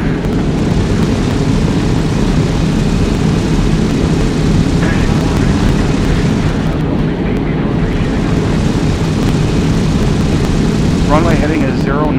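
An aircraft goes around after an aborted landing, producing a steady, loud engine roar that holds for the whole stretch while people talk over it.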